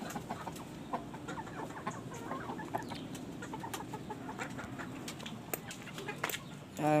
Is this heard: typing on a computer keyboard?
no